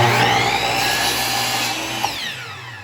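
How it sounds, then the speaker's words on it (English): A miter saw spinning down after cutting a wooden picture frame piece, a steady whirring motor whine that slowly fades as the blade coasts toward a stop, with a small click near the end. "Always let that come to a complete stop before you lift up the saw."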